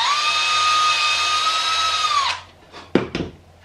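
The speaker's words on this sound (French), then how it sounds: "Oui, donc je peux percer." A power drill spins at high speed while pre-drilling wood for the screw of a pepper mill, a steady close whine that winds down, followed by a couple of short knocks.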